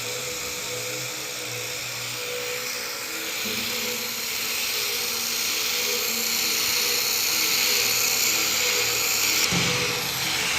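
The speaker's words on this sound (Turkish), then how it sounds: "bir elimle kaynak yapıyorum" A Ciweld laser welding machine runs steadily while welding metal, giving a continuous hissing, whining hum with tonal bands that grows slightly louder and shifts partway through, with no talking.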